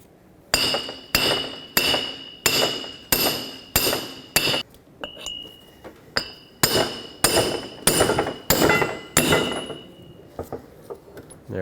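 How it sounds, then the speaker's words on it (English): Sharp metallic hammer blows knocking a broken lug stud out of a Chevrolet Express 3500 van wheel hub, about twenty close, ringing strikes in steady bursts with a brief pause midway. "Here's our broken lug stud. We can now hammer this off of here."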